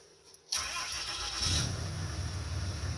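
A tuned diesel truck engine cranks and catches after a short quiet moment, then settles into a loud, close, rumbling idle that swells briefly before holding steady.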